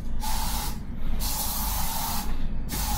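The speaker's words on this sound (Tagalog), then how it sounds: "So spray lang ako." Sanitizer sprayed onto a hotel bed in short bursts, a steady close hissing spray that pauses briefly twice, with no talking.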